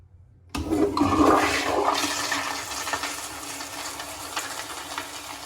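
A toilet flushes loudly nearby, a sudden rushing surge of water that gradually tapers into swirling and draining.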